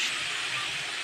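Spices tipped into a hot kadai for a potato and okra curry, giving a bright, steady sizzling hiss up close that stays loud and even for about a second with no voices.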